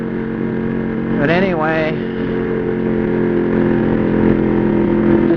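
Motorcycle engine on a night ride, a steady low drone that runs unbroken through the whole stretch, with someone briefly talking over it near the start.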